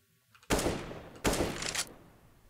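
Two bursts of automatic gunfire from a Battlefield 4 weapon with spread enabled, each a rapid loud volley lasting about half a second, separated by a short pause.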